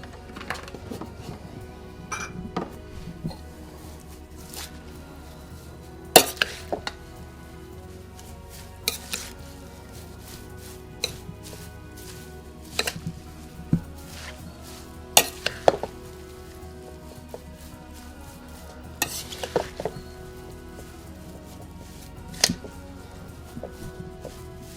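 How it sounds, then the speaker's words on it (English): Tabbouleh being mixed with olive oil in a bowl, a soft continuous moist tossing and rustling of chopped vegetables and herbs, broken by sharp clicks and knocks of a utensil against the bowl at irregular intervals. "I'm going to add 1/4 cup of olive oil and mix it."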